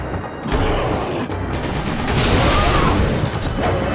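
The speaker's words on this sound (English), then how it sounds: "Shoot the fire barrel again." Fire barrel shot and exploding in Resident Evil 5, a loud sustained burst of blast and crackling debris filling the whole moment with dense roaring noise.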